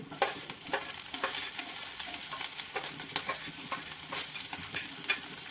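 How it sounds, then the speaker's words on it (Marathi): Mustard seeds, cumin, garlic and green chili sauté in hot oil, a continuous crackling sizzle broken by brisk stirring scrapes, close and moderately loud, with no speech. "हे सर्व व्यवस्थित तेलामध्ये आपल्याला परतून घेऊ"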